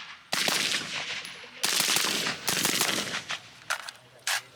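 An old-style AR-15 rifle fires rapidly, loud close bursts of shots in quick succession with brief pauses between strings.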